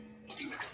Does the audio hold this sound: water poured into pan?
yes